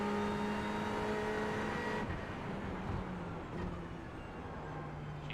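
A race car engine drones steadily while driving on a classic circuit in a racing video game, a sustained loud whine that shifts pitch as the car eases off and back on the throttle.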